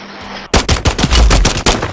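Rapid automatic gunfire from a video game shootout, a dense burst of loud, close shots firing in quick rhythm for over a second with no talk.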